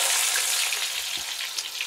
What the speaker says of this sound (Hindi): प्याज गया कढ़ाई में